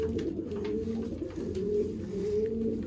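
Pigeons coo steadily in soft, low, throaty murmurs, several birds close by overlapping without pause.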